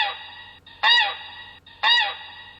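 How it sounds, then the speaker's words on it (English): A flock of geese honking, a steady chorus of overlapping calls punctuated by two louder, closer honks. "A chorus of honks swelled the air as the flock of geese spread their wings to follow him"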